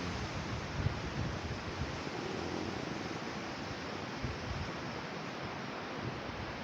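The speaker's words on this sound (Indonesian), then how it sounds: "anginnya kencang, sangat bagus nih" Strong wind buffets the microphone at the seaside facing Rubiah Island, a loud, steady broadband rush with faint surf mixed in, continuous for the whole stretch with no voices.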